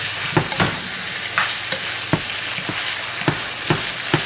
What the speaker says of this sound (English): Here's the ground beef, mixed vegetables, sauteing together